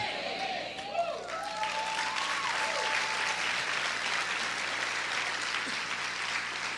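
A church congregation claps in dense, steady applause throughout a sermon, with a preacher's voice talking over it early on.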